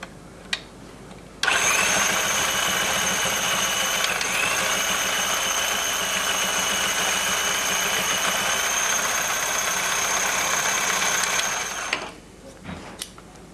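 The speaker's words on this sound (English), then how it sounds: "Yes, the machine is sewing." An NC carpet binding machine, model PBS or PBT, sews a zigzag stitch over carpet with a steady, close mechanical whir that starts abruptly, holds for about ten seconds, then stops, with a few small clicks before and after.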